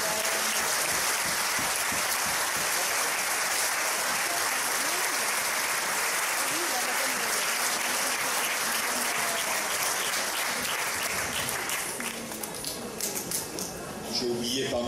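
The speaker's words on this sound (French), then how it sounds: "On peut applaudir tout le monde." Loud, sustained applause from a large audience at a church faith celebration, a dense wash of clapping that thins slightly near the end.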